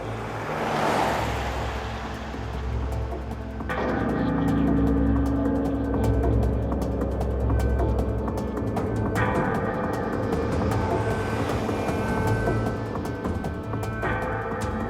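A big, powerful four-wheel drive vehicle drives along a road on Kangaroo Island, its engine and tyre rumble loud and close, with rising surges and roaring wind noise layered over the steady drone.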